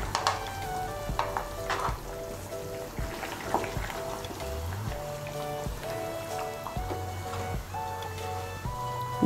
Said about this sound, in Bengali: ঘি আর গরম মশলার গুঁড়োটা মিশিয়ে নিয়ে আমি আরও 1-2 মিনিট রান্না করে নেব।